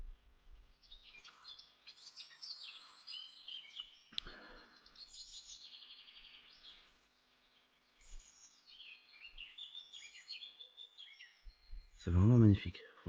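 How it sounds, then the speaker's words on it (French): Birds chirp and sing in the morning beside a lake, with bright, busy calls running through most of the scene and a brief louder low bump near the end. "Le chant des oiseaux."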